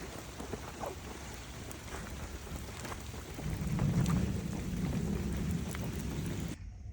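Rain from a thunderstorm drums on a Kodiak 12x12 canvas tent, a steady dense patter that swells midway and then cuts off abruptly.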